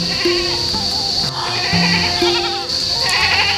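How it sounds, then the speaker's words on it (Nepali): Goats bleat in repeated high calls, loud and near, over a steady background hum in a rural Nepali comedy scene where goats graze in the shade. "बाख्रा कता छन् त कता चराइछौ बाख्रा ऊ प्याप्या बुबु कराइरहेको छ"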